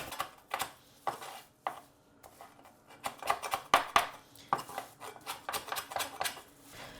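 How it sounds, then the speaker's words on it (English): A dough cutter trims the edges of a vegan, gluten-free keto biscuit dough on a work surface, a series of close, sharp scraping taps and clicks in uneven bursts with short quiet gaps between them. "you can use like a dough cutter like this, or a knife, and just tidy up Just tidy up the edges."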